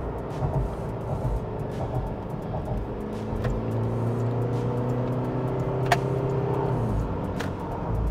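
A Toyota Fortuner GR Sport with a 224-horsepower engine accelerates through paddle-shifted gears, a steady, moderate engine drone heard from inside the cabin, rising in pitch with each gear.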